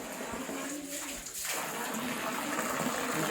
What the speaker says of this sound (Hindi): यहाँ से एक पानी का स्रोत है जो 24 आवर चलता है, साल भर चलता है